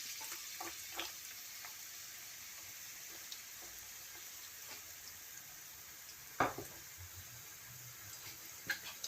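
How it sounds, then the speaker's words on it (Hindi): Chopped onions sizzle and fry in hot oil in a pan, a soft steady crackle with occasional sharper pops and stirring clicks, quiet and continuous with no voices. "ओनियन को 2-3 मिनट तक फ्राई करेंगे"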